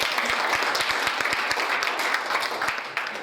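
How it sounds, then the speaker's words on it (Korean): A lecture audience applauds a speaker in a hall, a full round of clapping with a few sharp, close claps standing out, holding steady before easing off slightly near the end. "박수 한번 쳐주세요."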